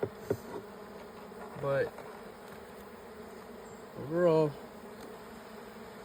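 Bees buzz around a busy spring hive in a steady close drone, with a couple of louder passes as single bees fly near. A voice speaks briefly.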